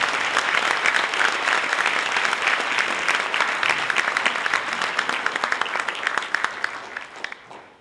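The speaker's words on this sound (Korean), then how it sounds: "여러분 이분들을 위해서 뜨거운 박수를 한번 부탁드립니다." An audience at a corporate innovation concert gives warm applause to standing division staff, a loud, full burst of many hands clapping that thins toward the end and fades out.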